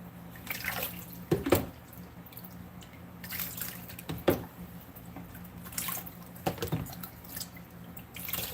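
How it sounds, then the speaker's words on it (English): Clean water from a faucet trickling and dripping as a guinea pig is rinsed off during a bath, a quiet steady flow broken by a few louder splashes. "So this is just clean water to rinse him off."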